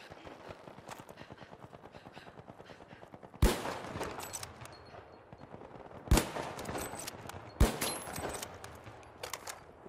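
Turret gunfire in the game The Finals rattles in steady rapid-fire bursts, broken by three heavy, louder blasts that stand out above the continuous stream of shots.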